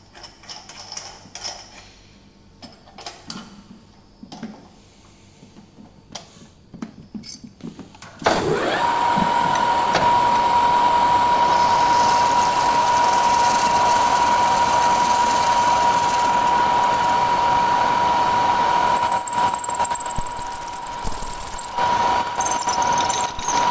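A steady mechanical whine of a lathe drilling with an 8 mm bit starts abruptly after several seconds of quiet clicks and taps, then runs continuously.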